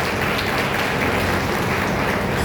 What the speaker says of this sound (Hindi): तमाम यीशु मसीह के लिए ताली बजाएं और उसको धन्यवाद दें